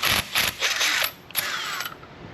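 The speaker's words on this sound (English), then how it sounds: "Let's run that tap one more time." Metal thread tap being run through a damaged bolt hole in a car, giving a quick series of scraping, ratcheting bursts with brief pauses, close and fairly loud, with no talk.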